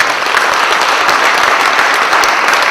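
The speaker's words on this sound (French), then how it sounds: "Bon, on peut l'applaudir quand même un peu." Steady applause from a conference audience, a dense, even patter of many hands clapping close by for the whole short stretch, with no talk over it.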